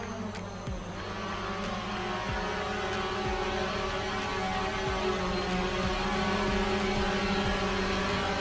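A drone flies indoors at the DJI Arena in Tokyo, a steady buzzing whine that holds at an even loudness throughout with faint periodic ticks, and no voices.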